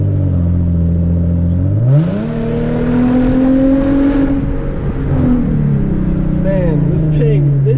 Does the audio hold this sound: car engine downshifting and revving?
yes